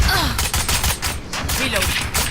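Rapid bursts of video game gunfire crackle continuously at close range, dense and loud, with a voice talking over the shooting.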